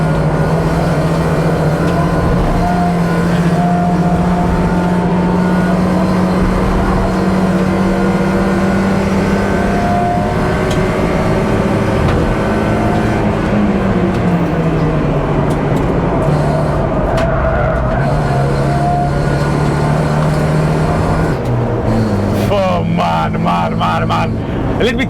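A race car at speed on a track, held in third gear without downshifting, its engine droning steadily loud and near throughout with pitch shifts as it carries speed into a corner, and a brief higher burst near the end.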